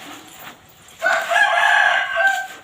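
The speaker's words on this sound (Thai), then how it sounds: "ไก่ขันเอ็กเอะเอ็ก" A rooster crows loudly and close by on a farm in the morning, one long sustained call that swells and holds before tapering off, with faint background noise before it starts.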